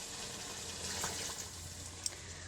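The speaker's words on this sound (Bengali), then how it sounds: "2 বাটি খানেক পানি দিয়ে দিব," Water poured into a pot of cooking beef curry, a soft continuous pouring rush with one small knock near the end, fairly quiet.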